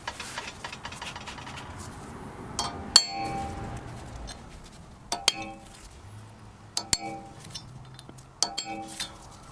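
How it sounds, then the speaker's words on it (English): Sharp metallic hammer blows on a chisel knock loose the hub dust cover on a Toyota manual hub conversion. The strikes come singly and unevenly spaced, ringing clearly over quiet background noise. "He's getting a little bit of movement out of that dust cover every hit."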